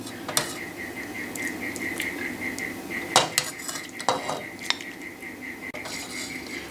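Metal spoon clinking and scraping against a pot and plates as mushroom soup is served over sweet potato mash, with several sharp knocks and scrapes against a faint steady background hum.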